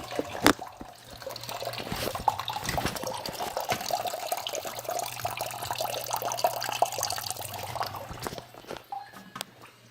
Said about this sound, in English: Rest of the water is draining out here.